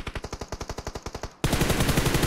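Automatic gunfire in the mobile battle royale game PUBG Mobile: a quick run of evenly spaced, sharp shots, followed by a sudden, denser and louder stretch of continuous firing.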